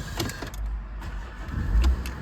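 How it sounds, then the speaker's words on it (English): A Porsche Cayenne 3.0 V6 diesel SUV, Platinum Edition with Tiptronic gearbox, has its engine started: a low rumble swells briefly near the end after faint cabin clicks. "Now, we'll start the car up."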